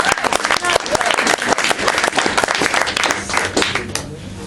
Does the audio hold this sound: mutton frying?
no